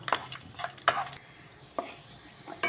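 Garlic browning in a pan for Goan choris chilli fry, heard as soft frying with a few sharp scrapes and clinks of a spoon stirring, close and fairly quiet, with no voices.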